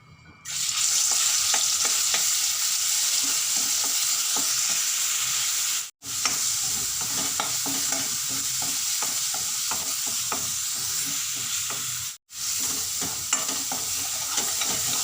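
Garlic chutney frying in hot oil in a kadhai, a steady loud sizzle with stirring scrapes that runs for the whole stretch and breaks off twice for a moment.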